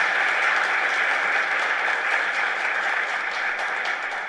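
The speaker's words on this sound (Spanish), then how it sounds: "Así que un fuerte aplauso para esta familia." Sustained applause from a church congregation at a live Mass in a Schoenstatt chapel, steady and dense clapping that holds at an even level throughout with no talk over it.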